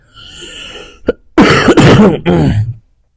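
One close, harsh cough, a rough burst with a couple of quick follow-up hacks, preceded by a faint steady tone.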